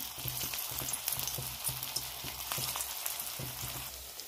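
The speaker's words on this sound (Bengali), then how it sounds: "আমি একটু গোল করে একটু চেপটে দিয়ে তেলে ভেজে নেবো" Flattened, hand-pressed chira (flattened rice) pakoras fry in hot oil in a kadai with a steady, close sizzle peppered with fine crackles and small pops, and no voices.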